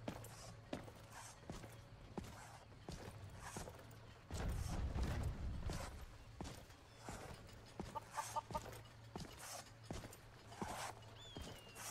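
Chicken clucking in the video game Skyrim, a few scattered soft clucks and creaky mechanical clicks over a quiet ambient bed, with a brief louder rumble midway and no speech.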